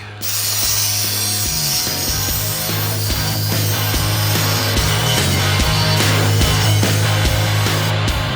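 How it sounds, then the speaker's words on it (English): A power tool cuts through the weld points on a steel RV step bracket, a loud, continuous grinding rasp with rapid repeated ratcheting pulses, close up and without speech. "So we're going to cut off a few weld points, take this off, and Nick's going to give us a brand new"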